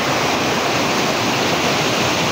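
Waterfall pouring over rocks into a river pool at a hot and cold spring resort, a loud, steady broadband roar of rushing water that fills the whole stretch with no voices.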